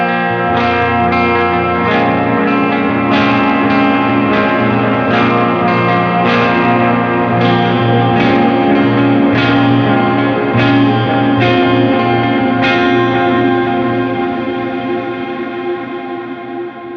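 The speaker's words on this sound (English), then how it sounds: "that wave delay is pretty cool for such a small pedal. It sounds really good." An electric guitar runs through a small wave delay pedal placed in the effects loop of an HX Stomp board. The chords are picked out with heavy chorus-like modulation and repeating echoes, and the sound is loud and steady before fading near the end.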